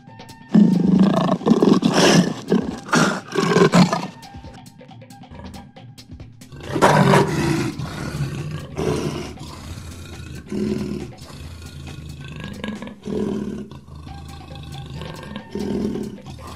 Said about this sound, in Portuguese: Conhecido como o rei da selva, o leão pode ser encontrado na Ásia,